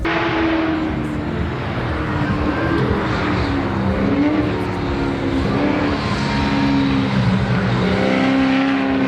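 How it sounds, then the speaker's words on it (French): Race car engines roar continuously on the track at the GP Explorer race event, revving up and down in waves with a steady, loud, gritty drone. "on a entendu un bruit de moteur sur la piste"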